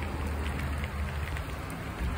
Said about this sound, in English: It's just started raining pretty good down here